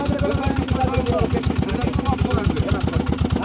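A boat engine runs on the river near the erosion-hit Bhutni area of Manikchak. It thumps out a loud, close, fast and even chugging rhythm that never lets up, with a voice talking over it.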